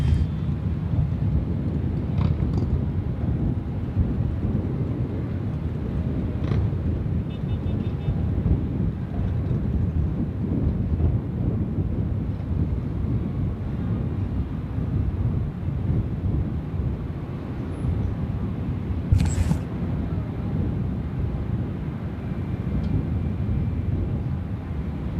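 Jet aircraft at Sydney Airport, heard as a steady, fairly distant low roar that holds for the whole stretch, mixed with wind buffeting the microphone.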